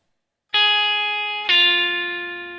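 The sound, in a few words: blues guitar pull-off on a string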